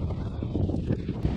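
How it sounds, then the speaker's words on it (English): Steady, rumbling wind buffets the microphone while a 250W e-bike rides directly into a headwind at about 12 miles per hour, loud and continuous, with a rider's voice faintly mixed in. "So right now we're going directly into the wind for the most part."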